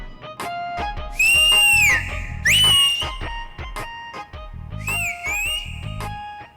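A person in a comedy drama scene whistles loud, shrill tones in short bursts and longer sliding phrases, with pauses between them and quieter clattering underneath.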